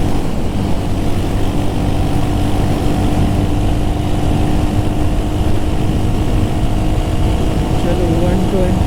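A 2025 Royal Enfield Hunter 350 motorcycle accelerating in fourth and fifth gear, a loud steady engine drone mixed with heavy wind rush, continuous and close throughout.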